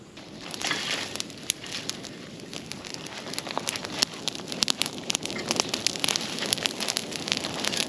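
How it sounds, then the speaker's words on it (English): An outdoor fire on an off-grid homestead in Portugal burning down to ash, giving a steady close crackle of sharp pops and snaps over a soft hiss. "And the fire is almost done."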